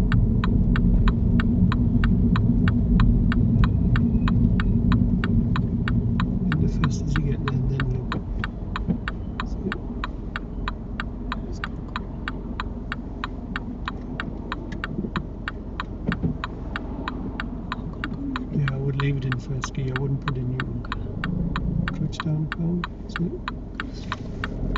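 A learner driver's car moves off, its engine a steady low throbbing hum. A regular ticking click, like an indicator, runs over the engine the whole time, and no one speaks.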